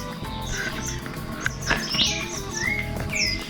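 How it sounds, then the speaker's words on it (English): Birds chirp and tweet in a Costa Rican cloud forest near a volcano, with several bright calls overlapping against a steady outdoor background. "Birds flying around."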